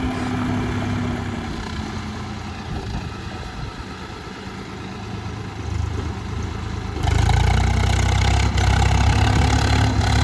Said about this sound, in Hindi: दोबारा बैक लगाएगा ट्रॉली को, बैक में भी बहुत पावर लगा रहा है दोस्तों ट्रैक्टर